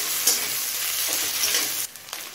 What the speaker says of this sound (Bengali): পেঁয়াজটা হালকা লাল হয়ে আসা পর্যন্ত ভেজে নেব।